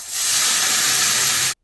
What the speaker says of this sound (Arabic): ننزل بالصدوق في طاسة على النار، عليهم شوية مية